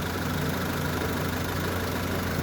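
A Mitsubishi Lancer engine, freshly top-overhauled, idles steadily with a low, even hum and a faint mechanical rattle, running continuously near the car with no talking.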